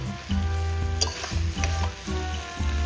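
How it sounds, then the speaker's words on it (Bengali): Mutton with a splash of water sizzles in a pan over a wood-fired stove, a spatula stirring it in repeated scraping strokes. A low steady hum runs beneath the bubbling, up close and without speech. "একটু আমি জল দিয়ে দিলাম, দিয়ে ভালো করে কিন্তু কষাতে হবে"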